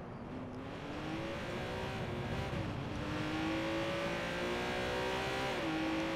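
A car engine in Watch Dogs 2 revs steadily, its pitch climbing and shifting through gear changes as it accelerates, with a faint tire squeal, loud and continuous throughout.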